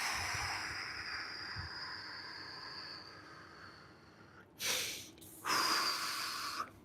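Deep breathing during a lower-body and middle-splits stretching routine: a long, quiet stretch of ambience followed by two close, forceful exhales as the body folds into the stretch.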